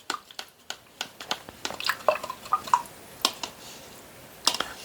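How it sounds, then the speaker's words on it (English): Acrylic paintbrush swished and tapped in a water cup, with a series of soft, irregular splashes, drips and clicks close by. "We clean our brush."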